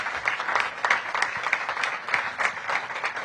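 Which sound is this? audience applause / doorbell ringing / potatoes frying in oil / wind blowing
audience applause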